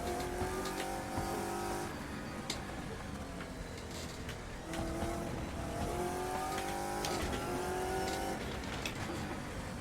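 An RSS Shadow Saleen V8 race car driven around the Nordschleife in Assetto Corsa, its engine roaring loud and close, revving up through gears with repeated rising pitch sweeps and brief tire squeal.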